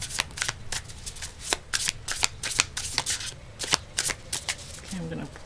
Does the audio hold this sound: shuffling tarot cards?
yes